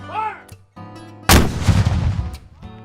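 A Civil War cannon booms at a Fort Jackson reenactment, one loud sudden blast whose rumble decays over about a second, between stretches of voices and a low hum.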